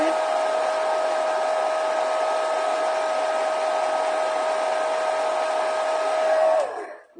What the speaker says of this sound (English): So I'll just give it a wee dry with my hairdryer.